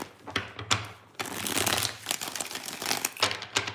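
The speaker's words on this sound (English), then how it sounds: "Let's get 3 shuffles." Tarot cards are shuffled by hand in a quiet room, with close rapid riffling and flapping bursts, a longer continuous shuffle in the middle and papery slaps between, no talking.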